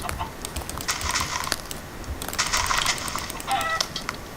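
Chickens in a video game cluck in short clustered bursts, several rounds of sharp repeated clucks rising and falling over a steady background hiss, with no talking.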